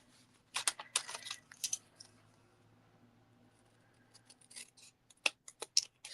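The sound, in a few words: trimming a piece of card stock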